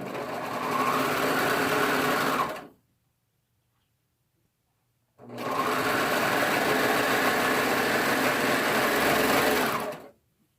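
A sewing machine runs steadily while stitching a straight seam on a swimsuit, in two long continuous bursts of about two and a half and five seconds separated by a silent pause.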